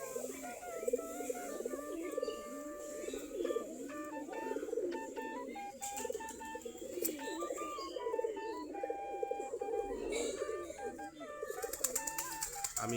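Several native Giribaj pigeons sit around a loft and nearby tree at dusk, their soft, continuous cooing forming a low murmuring bed, with occasional brighter chirps and calls from other birds layered over it.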